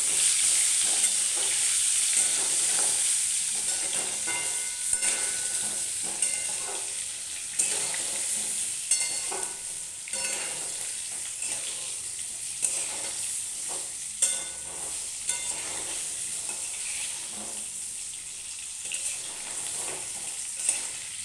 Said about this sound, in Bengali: আলুটা প্রায় লাল লাল করে ভাজা হয়ে গেছে